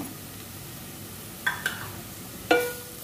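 Turmeric, garam masala and Malvani masala sizzle softly in a pan for elephant yam bhaji, with a few sharp clinks of the stirring utensil against the metal.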